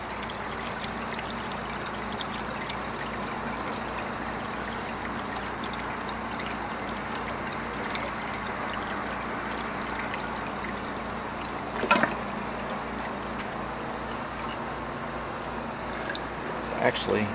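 Water filling a radial flow settler tank in an aquaponic greenhouse up to its overflow point, a steady rushing pour with a couple of brief knocks, under nearby talk.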